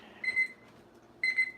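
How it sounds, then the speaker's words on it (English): A kitchen timer gives two short bursts of high electronic beeps about a second apart, each a quick double beep, fairly close in a quiet room. "There's the timer."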